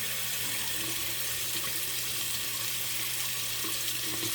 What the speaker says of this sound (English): Rinse it up a little bit here